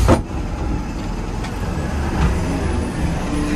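A Tata 1822 bus rolls slowly over rough, dusty ground, its steady low engine drone and chassis rumble continuing throughout, with a few faint knocks and creaks, no talking.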